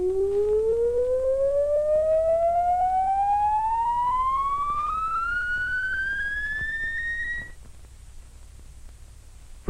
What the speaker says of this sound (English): The audio oscillator is connected to an amplifier and loudspeaker.